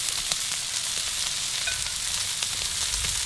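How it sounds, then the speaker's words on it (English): Lamb lollipop chops sear on an outdoor grill grate with a continuous, fairly close crackling sizzle and scattered small pops, no talking. "On the grill grate, and by the time we lay these down, it'll be time to flip the lamb lollipops that we put on the soapstone."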